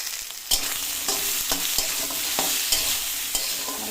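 Bitter gourd and potato slices sizzle steadily in hot oil while a spatula scrapes and clacks through them at irregular intervals, close and continuous with no talking.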